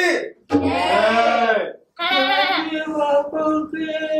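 Goat bleating on stage during a Hindi stage play, several long wavering bleats, loud and close, with brief pauses between them and voices around.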